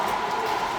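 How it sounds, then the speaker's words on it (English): A model train runs on an interactive miniature railway set at a Long Island railroad museum, giving a steady, close rolling rumble that lasts less than a second with no talk over it. "It's a model train set with little model train sets in it."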